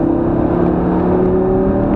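A Lamborghini Gallardo engine pulls hard at full throttle, a loud, steady, droning roar with a strong buzzing tone that holds unbroken for two seconds, with no voices.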